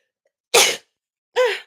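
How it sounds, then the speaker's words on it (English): Two sharp sneezes, about a second apart, each a sudden burst in otherwise silent surroundings. "Go sneeze."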